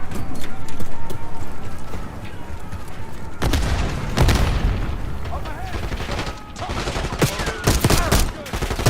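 A video game battle with gunfire and a grenade blast, with repeated bursts of shots and booming impacts over a constant rumble, while voices shout through the fighting.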